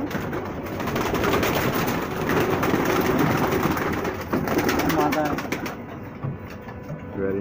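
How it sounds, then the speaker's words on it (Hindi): Saharanpuri feathered pigeons coo in soft, repeated calls under a dense wash of flapping, rustling and background noise. A few clearer tonal coos stand out toward the end. "उन्हें आज सहारनपुरी कबूतरों के पर्दार कबूतरों का शौक़ करने को मिलेगा"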